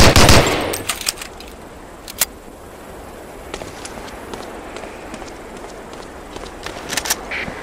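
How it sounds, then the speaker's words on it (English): A few sharp pistol shots from a .45 in Medal of Honor: Allied Assault, a loud burst at the start and then scattered single cracks at a target, spaced apart over a quiet room-tone background. "Try a couple of shots on that target with your 45"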